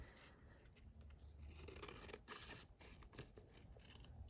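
Scissors snip and trim paper in a series of quiet, crisp cuts, with light rustling between snips and no talking.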